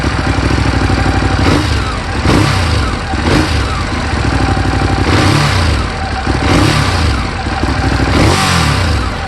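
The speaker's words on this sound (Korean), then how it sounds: "기본적으로 L-트윈, 그러니까 V-트윈 엔진이죠" A loud, throaty Ducati Monster 821 with a lumpy L-twin (V-twin) beat, revved up several times in quick bursts and dropping back to idle between them.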